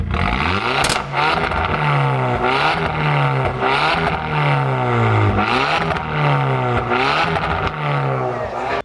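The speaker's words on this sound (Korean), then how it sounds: "배기음 한번 들어보도록 하겠습니다" A tuned Hyundai Avante AD 1.6 Turbo Sport with a loud variable exhaust revs repeatedly, the pitch rising and falling in steady surges, close and continuous throughout.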